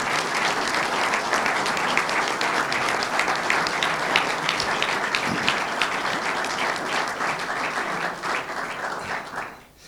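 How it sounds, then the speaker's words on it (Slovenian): Strong, sustained applause fills a party main committee session, dense clapping from a large audience holding steady for several seconds before fading out at the end. "Tako da predlagam en močan aplavz,"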